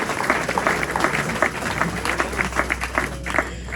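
An audience at a speedway press conference applauds the team captain, dense clapping that holds steady for a few seconds, close and fairly loud, with voices mixed in.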